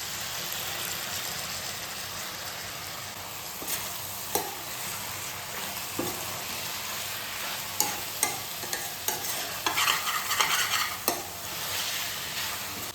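Chicken sukha cooking in a pan, a continuous close sizzle with scattered scrapes and knocks of stirring that cluster more densely toward the end, no talking.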